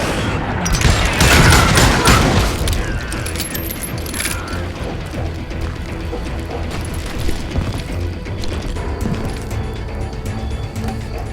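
Dense, continuous gunfire in the Call of Juarez: Gunslinger video game, with a heavy burst of shots and booms early on, then steady rattling shots and impacts over a busy game soundscape.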